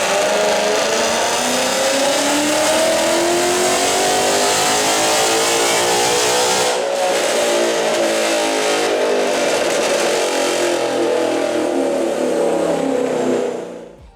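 A 2012 Ford Mustang GT with a second-generation Coyote V8 runs a full-throttle dyno pull, loud and close, its engine note climbing steadily through the revs before cutting off near the end.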